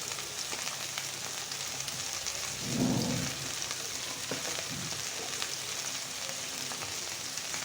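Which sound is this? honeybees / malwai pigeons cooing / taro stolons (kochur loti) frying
taro stolons (kochur loti) frying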